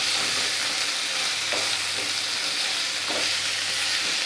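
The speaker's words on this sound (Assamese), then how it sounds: "এয়া হালধি গুড়ি, এয়া নিমখ দিছোঁ টেষ্ট অনুযায়ী, আৰু ভালদৰে লৰাই দিছোঁ" Masoor dal being stirred in a pan with salt and turmeric powder, a steady soft sizzle with faint scraping strokes of the spoon running throughout, close and continuous with no voices.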